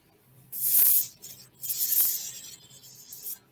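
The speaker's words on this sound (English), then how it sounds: "Gonna have to spray some primer." A spray can of primer paint hissing in two longer bursts and a shorter final puff, close and crisp with quiet gaps between.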